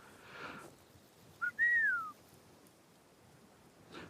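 A person whistles a short call, a brief rising chirp and then a longer sliding note that falls away, clear and close against a quiet, faintly hissy room with no talking.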